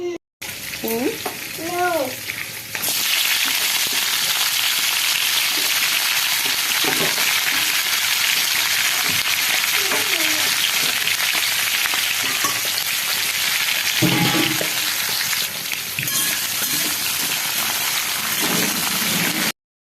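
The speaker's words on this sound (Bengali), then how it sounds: "আর দেখো মাছ এখন ভাজবো" Fish hisses loudly in an iron wok of hot oil, a steady, close, dense sizzle that starts abruptly after a few seconds of quieter kitchen sound and runs unbroken, with brief faint voice bits near the start.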